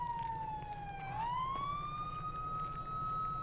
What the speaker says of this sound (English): let's walk to the other side so I can turn the siren off.